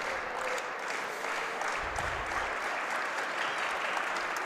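A crowd applauds steadily at a state championship high jump competition, broad continuous clapping at even loudness, with a brief low thump partway through.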